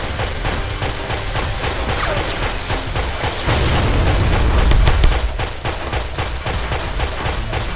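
Dense, continuous gunfire and explosive booms from the side-scrolling shooter Intrusion 2 fill the scene, steady and loud throughout with a heavier swell of blasts in the middle.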